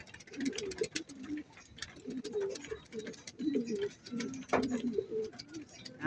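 Pigeons or doves cooing repeatedly in low, rolling phrases at close range, with faint chirps and occasional soft human voices mixed in.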